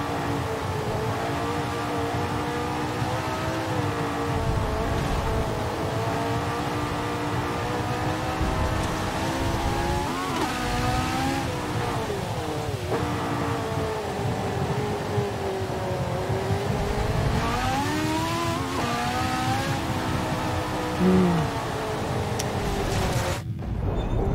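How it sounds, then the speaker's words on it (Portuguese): A race car in Forza Motorsport 7 driven on a wet track in the rain, its engine droning steadily with rising and falling revs and gear changes, sustained and moderately loud throughout. "Que difícil, não, esse carro aqui na chuva, cara, muito difícil, viu?"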